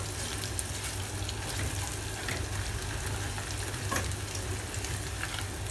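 Onions frying in oil in a pan while making Mumbai-style missal, a steady soft sizzle and crackle with faint stirring, continuous and fairly quiet with no talking.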